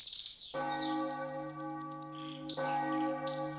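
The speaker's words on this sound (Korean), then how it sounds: "종소리가 화한 박하사탕처럼 울려 퍼지는 거야" A church bell rings in a children's storybook tale, two strong resonant strikes roughly two seconds apart, each with a long humming decay, over a soft bed of bird chirps and tweets.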